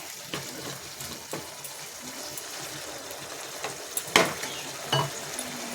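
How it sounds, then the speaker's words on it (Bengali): Small splash of water poured into a pan of nearly cooked potatoes (aloo bhaja) on a gas stove, with light sizzling, stirring clatter and a few sharper scrapes near the end, no talk. "এবার আমি দিয়ে দেবো অল্প জল"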